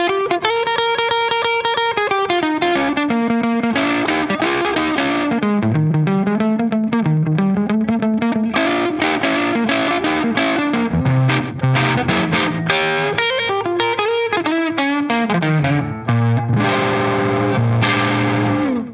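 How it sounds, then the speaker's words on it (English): Distorted electric guitar through a Crazy Tube Circuits Falcon amp-in-a-box pedal with slap delay into a Revv D20 amp, playing loud sustained chords and riffs with bent notes and fast picked runs for the whole stretch, no voices. "I'm gonna switch on the Crazy Tube Circuits Falcon with a little bit of slap delay, and check this out."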